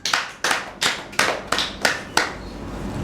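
A church congregation claps in unison, six loud, evenly spaced bursts roughly a third of a second apart, then falls quiet.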